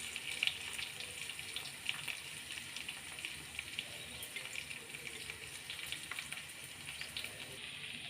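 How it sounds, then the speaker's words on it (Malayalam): Spice powders fry in hot oil with softened ginger and garlic for mango pickle, giving a steady, close sizzle and crackle that holds throughout with no talking. "ഇഞ്ചും വെളുത്തുള്ളിയും വാടി വന്നതിന് ശേഷം പൊടികളിട്ട് കൊടുക്കുക."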